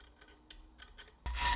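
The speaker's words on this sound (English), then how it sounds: "I will start out with a triangular file to get my notches started" A steel file rasps across the spine of a high carbon steel hunting knife, cutting notches; faint scattered scrapes give way to a loud, sustained gritty filing stroke near the end, with no talk.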